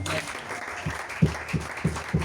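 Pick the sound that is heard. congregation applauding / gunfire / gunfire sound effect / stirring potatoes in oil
congregation applauding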